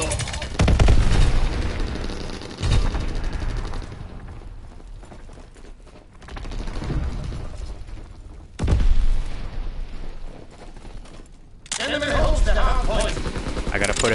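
Shotgun gunfire loaded with incendiary shells in Call of Duty: WWII multiplayer, with several loud blasts spaced a few seconds apart amid grenade explosions and battle noise, with a player talking quietly between shots.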